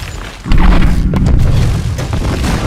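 A huge in-game explosion blows up the dwarf city of Karak Eight Peaks, set off with drums of gas and gunfire: a sudden deep boom that swells into a long, loud rumbling roar, heard alone.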